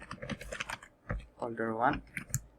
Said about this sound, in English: so let's type some codes, that is MD, and write the name of the folder.